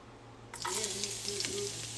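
Shrimp and tomatoes for kinamatisan hit a hot pan and start a sudden, steady sizzle that continues softly to the end.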